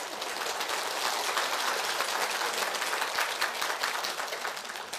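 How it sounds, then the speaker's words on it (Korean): Applause from an audience at a Buddhist lecture, a steady, dense patter of many hands clapping that holds evenly for the full five seconds without any voices. "여긴 참 이상하네요. 자연스님 얘기만 하면 박수를 치네요."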